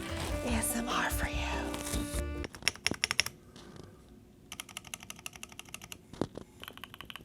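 Fingers typing on a 65% mechanical keyboard fitted with custom keycaps, close and crisp, in quick uneven bursts of clacks with short pauses, following a brief stretch of other noise at the start.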